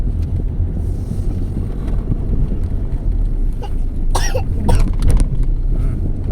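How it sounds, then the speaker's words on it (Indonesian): A few rough coughs close by inside a vehicle in heavy toll-road traffic, over a constant low rumble of engine and wind noise, with no talking. "Batuk ya?"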